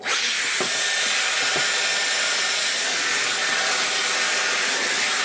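A Dyson hair dryer blows on short hair cut in a French bob, giving a loud, steady airflow roar that runs unbroken from start to finish with no talking.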